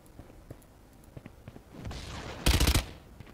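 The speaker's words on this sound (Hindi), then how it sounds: "नहीं पहले ही फायर कर रहा" Gunfire in a video game: a short burst of several rapid shots near the end, preceded by fainter scattered pops and a rising rush of noise, fairly quiet overall.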